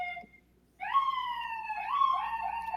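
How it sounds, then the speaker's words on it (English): Police car siren passing outside, a loud wailing tone that rises and falls steadily for about two seconds after a brief quiet moment, with no talk over it. "Here comes another siren."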